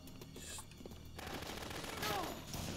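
Gunfire from the Dead Rising video game, a dense burst of shots rising over a noisy game soundtrack in the second half, with someone talking over the action.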